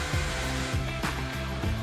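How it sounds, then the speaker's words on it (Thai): A power drill without hammer action whirs steadily and loudly at close range, drilling into tile with water, its motor hum running continuously with small dips as it bites into the hard surface. "อันนี้เป็นเสียงสว่านที่ไม่มีกระแทกแล้วนะฮะ"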